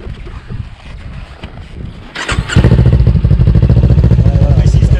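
A Kawasaki Ninja motorcycle with an aftermarket exhaust fires up after some quieter rumble and chatter, then settles into a loud, steady idle with a rapid, throbbing pulse close to the microphone.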